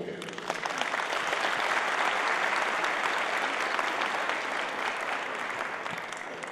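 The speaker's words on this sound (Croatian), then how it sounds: "molim vas da velikim pljeskom pozdravite načelnika općine Donji Andrijevci" Audience applause at a folk music festival gathering in Donji Andrijevci greets the municipality head, a dense, steady clapping from a sizable crowd that swells and holds for several seconds before easing slightly.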